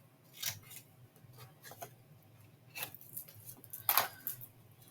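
Scissors snip through paper in several quick, quiet cuts, close by, with one sharper crisp snip near the end and no voices.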